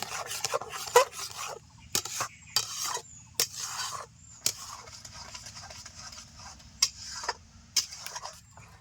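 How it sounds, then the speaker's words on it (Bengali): Spoon scraping and stirring a thick milk-powder sweet mixture in a pan, a series of close rasping rubs in short irregular bursts with quiet gaps between. "খুব ভালো করে নেড়ে ছেড়ে মিশিয়ে নেব"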